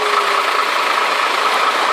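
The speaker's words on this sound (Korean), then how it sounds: "엔진 소음이 어떻게 들리는지 시동은 얼마큼 빨리 걸리는지 물어보는 거예요." A cargo truck's engine idles steadily after a restart, a continuous mid-pitched mechanical drone with a faint knocking texture, close and even throughout with no talk.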